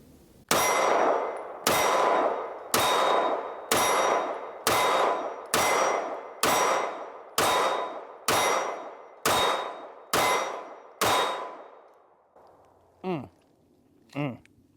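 Ten rapid pistol shots from a Kimber CDS9 ring off steel targets, each a loud, close bang with a long metallic ringing decay, followed by a couple of short tonal sounds after the string ends.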